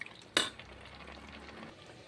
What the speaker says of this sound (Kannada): ಚಿಕನೆಲ್ಲ ಚೆನ್ನಾಗಿ ಸುಂಡುತ್ತೆ.